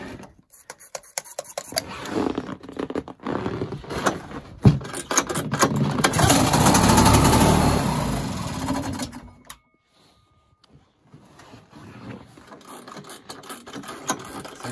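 A snowmobile engine cranks over in a long, rattling, uneven churn that swells in loudness and fails to catch, then cuts out, leaving quiet before softer mechanical sounds return.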